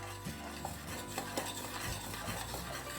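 Thick processed cheese mass being stirred in a pot after soda and salt were added, a steady scraping and stirring with a faint sizzle, continuous and close.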